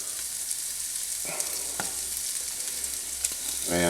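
Spicy Italian sausage, casing removed and pinched into small pieces, frying steadily in a pan for lasagna, with a continuous close sizzle, a few brief clicks of stirring and a louder burst of sizzle at the end.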